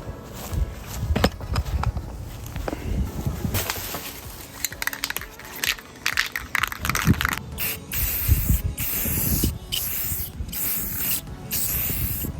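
A part is spray painted black outdoors over grass, with repeated close hissing bursts from an aerosol can interspersed with rustling, handling noises and short pauses.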